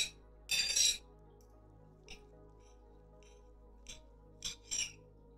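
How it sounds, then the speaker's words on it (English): Cutlery scrapes and clinks against a plate in a few short, faint bursts with quiet pauses between. "Sorry for the noise, the cutting."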